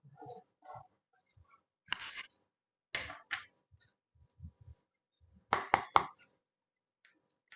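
Tarot cards being shuffled by hand in a quiet room: a few short, crisp riffling bursts separated by soft taps and pauses, close and distinct.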